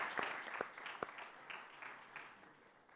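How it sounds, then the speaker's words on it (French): Applause from a conference audience after a speaker at a La Poste group session, a few sharp claps standing out over a soft, fading patter that thins out within a few seconds. "Merci Christian Emery, on peut vous applaudir bien fort."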